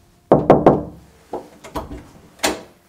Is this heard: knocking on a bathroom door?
yes